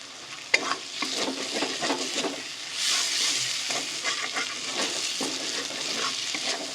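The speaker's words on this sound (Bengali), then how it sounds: "খুব ভালো করে কষিয়ে নিতে হবে।" Chicken tadka is stir-fried in a pan, dhaba style, with tadka masala and sugar added, giving continuous sizzling with repeated scraping stir strokes, close and fairly loud, with no talking.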